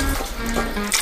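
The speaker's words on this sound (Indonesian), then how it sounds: "Bawa semangka ke keran dan cuci bersih dari kotoran." Running water from a tap splashes briefly as a watermelon is rinsed beneath it, a short, close burst of flowing water.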